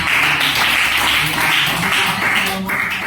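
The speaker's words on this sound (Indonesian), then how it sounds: "berikan tepuk tangan" Loud, dense applause fills an Indonesian Christian religious education classroom after a student presentation, steady handclaps from many pupils with no speech over them.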